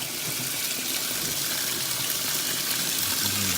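Water runs steadily from a tap for watering a plant, a continuous hissing gush at moderate volume with no talking.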